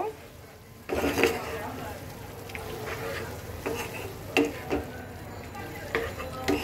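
A soybean curry with cumin powder is stirred in a hot pan, bursting into a close, steady sizzle after a brief quiet start, with repeated scraping strokes and spatters.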